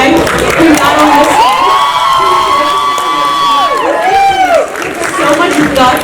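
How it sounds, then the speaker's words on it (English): A convention crowd at a cosplay contest cheers and whoops with high shouts and some clapping mixed in. The sound is loud and sustained, with rising and falling yells throughout. "I just want to give a huge round of applause to every cosplayer who entered today"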